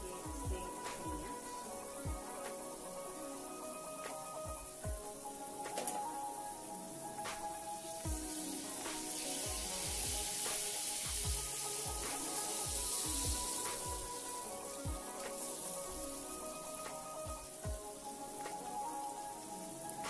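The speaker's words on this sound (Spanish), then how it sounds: "Dejamos que se fría." Potatoes and beef strips fry in a pan on low heat, giving a steady close sizzle with scattered pops and crackles throughout.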